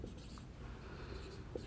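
Writing on a board during a chemistry lesson on redox reactions, a soft continuous scratching and tapping stroke sound, faint and alone.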